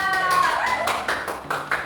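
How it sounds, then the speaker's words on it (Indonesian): Brief scattered clapping from a primary-school classroom for a student group, a few separate claps over a short moment, with some voice sounds mixed in. "tepuk tangan dulu untuk kelompok 2"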